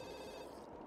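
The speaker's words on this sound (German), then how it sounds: "und das Telefon bimmelt" In The Sims 2, an in-game telephone rings with a steady electronic tone that stays level throughout, heard briefly on its own.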